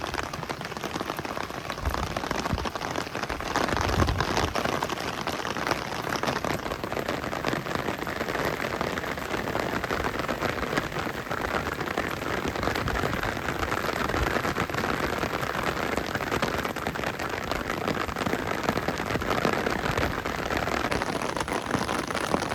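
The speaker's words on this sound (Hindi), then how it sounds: "देखा आपने कितनी तेज़ बारिश है अभी यहाँ पे।" Heavy rain pours steadily and densely, a loud continuous hiss and patter on surfaces with no break and no voices.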